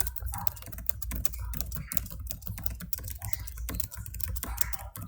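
Random numbers are typed quickly on a computer keyboard in a dense, continuous run of close key clicks and clacks, with no voices.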